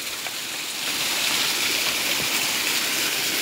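Floodwater rushes in a loud, steady roaring wash that swells after the first second and carries on without a break, sweeping debris along.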